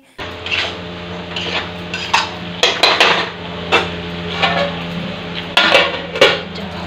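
Spiced eggplant is stirred in a pot, a ladle knocking and clinking against the metal in loud irregular strokes over a low background sizzle, with no one talking.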